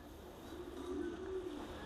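Racing pigeons coo inside a loft, a low rolling throaty coo swelling in the middle, close by over faint background rustle and distant hum, with no talking.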